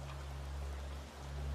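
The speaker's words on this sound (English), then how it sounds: "as the lullaby of rain continues" Steady ambient rain falls on a quiet night meadow, a soft, even hiss of drops with no other sounds, continuous and gentle throughout.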